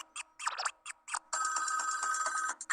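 Nokia X6-00 phone ringtone: a short electronic melody of bright, choppy tones followed by a sustained buzzing ring, close and clear with no talk.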